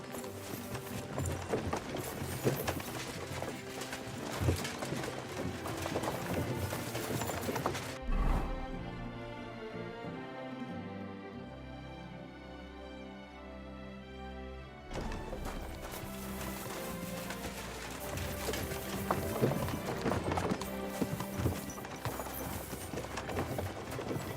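A horse gallops in Kingdom Come: Deliverance II, its hooves clip-clopping steadily under loud game music, with a short quieter stretch midway before the rhythm and music return.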